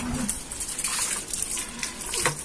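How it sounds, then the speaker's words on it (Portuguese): Water from a hose or tap pouring steadily into a small bucket during pool cleaning, a continuous close splashing gush with no talk. "Joga uma água no baldinho."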